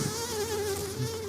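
Bees at an open beehive hum in a steady, close swarm buzz with a wavering pitch and no voices.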